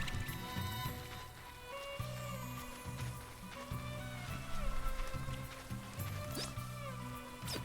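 Rain in the video game Bravely Default II, a soft steady patter of drops under the game's background music and effects, heard faintly without speech.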